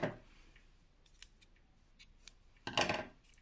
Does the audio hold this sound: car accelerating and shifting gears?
no